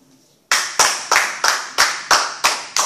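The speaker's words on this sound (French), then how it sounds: "Acclamons Jésus pour ça." A congregation claps for Jesus in slow unison, seven or eight loud, evenly spaced claps after a near-silent start.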